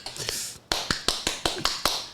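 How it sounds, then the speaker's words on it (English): A recorded hand clap effect triggered by a button during an online interview, a quick series of about seven sharp, evenly spaced claps, fairly faint and without talk over them. "I'm going to press the hand clap button"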